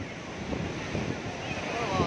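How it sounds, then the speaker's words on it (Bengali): Rough ocean surf rolls in at a beach, a loud, broad wash of breaking waves mixed with wind buffeting the microphone for a couple of seconds. "ঢেউটা আজকে প্রচুর বেড়েছে, ঢেউটা।"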